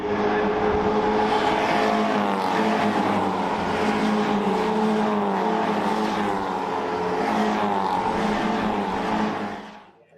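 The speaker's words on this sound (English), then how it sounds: "running up past Fletcher and through now, finally, goes the number 51" Hyundai Coupe Cup race cars roar around a circuit, engines snarling loudly with shifting pitch as several pass close by before the sound drops away at the end.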